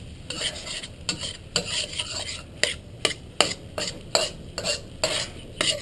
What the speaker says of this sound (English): We're still going to work it around quickly.